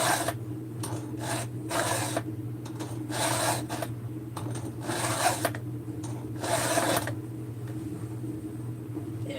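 A hand file rasps against a saw chain cutter to adjust its hook angle, a run of short, close, scratchy strokes in a steady rhythm over a faint background hum, with no voices.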